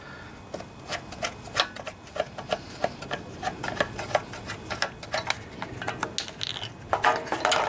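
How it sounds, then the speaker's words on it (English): The air filter comes off a Tecumseh Enduro OHV 5-horsepower engine with a run of close, faint, sharp plastic clicks and rattles, irregular and repeated, in a quiet setting. "let's just take off the air filter here to start"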